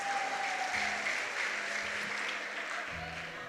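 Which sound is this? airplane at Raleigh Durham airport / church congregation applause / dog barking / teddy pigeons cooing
church congregation applause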